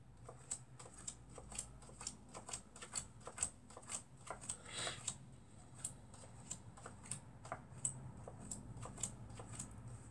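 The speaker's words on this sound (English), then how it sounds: "I'm going to deal the cards face up one at a time on the table." Playing cards are dealt face up one at a time onto a table, a quiet run of crisp, evenly spaced snaps and slaps, about two per second, close by with no talk.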